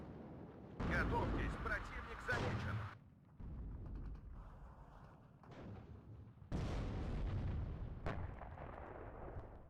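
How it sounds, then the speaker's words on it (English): Artillery fire in the video game Warno, several heavy booming blasts arriving in bursts with a sharp crack near the end, loud and close, under someone talking. "Artillery now, though, coming down on our units."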